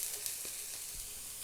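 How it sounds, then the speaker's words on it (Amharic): Onion and garlic frying in olive oil in a pan, a soft, steady hiss of sizzling throughout with a faint clink of stirring, no talking. "ሁሉንም ቬጂቴብል አብረን እንጠብሳለን።"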